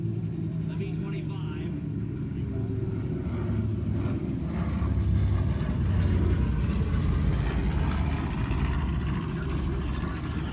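A B-25 bomber passes over an airshow crowd as a steady, loud propeller-engine drone and rumble that swells slightly midway, with people talking nearby throughout.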